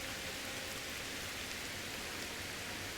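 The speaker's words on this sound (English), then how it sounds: "It's dark and rainy." Steady rain falls in a dense, even hiss, close and unbroken throughout, with no voices.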